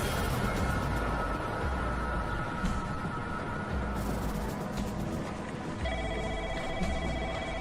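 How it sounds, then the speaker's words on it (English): Telephones in a police office ring over a busy room tone, with steady electronic ring tones and a second distinct ringer joining toward the end. "these phones have been ringing all morning"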